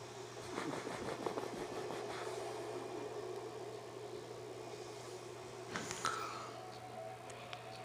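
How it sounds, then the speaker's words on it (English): A freight train passes through at a distance, a faint, continuous low rumble and mechanical hum with a brief clatter of louder wheel noise near the end. "A freight passes through."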